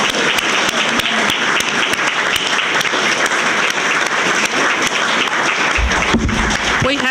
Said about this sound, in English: a round of applause for the candidates